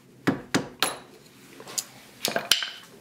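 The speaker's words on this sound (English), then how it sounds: "Just knock them off with a hammer and chisel." Sharp metallic knocks ring out close by as a hammer and chisel knock protective covers off a Lotus Elan M100's front suspension: three evenly spaced blows followed by a few more irregular taps, with quiet pauses between.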